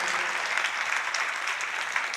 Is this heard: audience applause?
yes